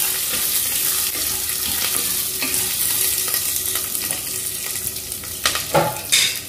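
Popcorn kernels and salt being stirred inside a pressure cooker, a steady scraping, rustling stir under a continuous sizzling hiss, with a few louder clatters near the end.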